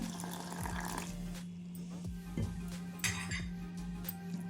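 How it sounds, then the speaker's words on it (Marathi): Wheat flour is stirred into water in a kitchen bowl, making soft wet swishing with a few faint clinks of utensil against the dish over a low steady hum. "मिक्स करून घेते पाण्यामध्ये गव्हाचं पीठ."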